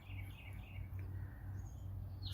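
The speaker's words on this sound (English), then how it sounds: "listening to the sweet, sweet sounding sounds of birds" Birds chirping outdoors, light high tweets scattered over a steady low background hum, faint and somewhat distant, with no talking.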